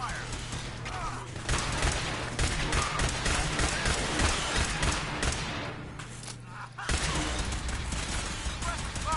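Sustained dense gunfire in the video game Fallout 4, a continuous loud fusillade of rapid shots with a brief lull before the barrage resumes.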